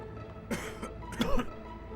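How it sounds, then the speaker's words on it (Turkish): A man coughs twice nearby, two brief rough bursts about a second apart, with a faint throat-clearing sound in a quiet indoor setting. "Sen de suratıma öksürme."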